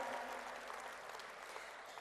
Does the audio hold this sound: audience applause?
yes